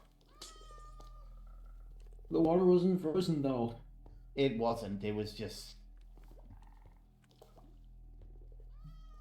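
A video-game cat lets out two long, wavering meows close up, separated by a short pause, while people talk over the game audio.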